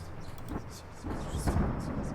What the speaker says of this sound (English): Storm, thunder, lightning.